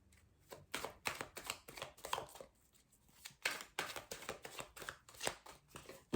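Oracle G divination cards being cut and dealt out into a square of nine, a close, quiet run of soft papery flicks and taps in an uneven rhythm, with no voices.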